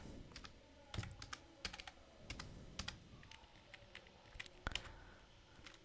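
Keys clatter on a computer keyboard as a title is typed into an Android progress dialog, with irregular bursts of sharp close clicks and brief pauses between words, quiet and without talk.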